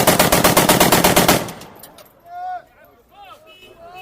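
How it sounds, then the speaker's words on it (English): Rapid automatic gunfire rings out nearby in Tripoli, a fast loud burst of shots for about a second and a half, then fading echoes with faint voices and scattered sounds behind. "Was he firing at me?"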